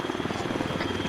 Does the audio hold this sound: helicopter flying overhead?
yes